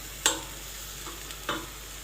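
Green fava beans sautéing with onion in a pan over the heat: a soft background sizzle broken by two sharp clinks of a spoon scraping and stirring, close and fairly quiet.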